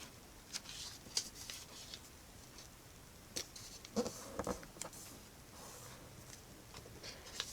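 Origami paper being folded into a small shuriken, with soft papery creases and rustles scattered at an irregular rhythm, close and quiet, a few sharper crinkles standing out.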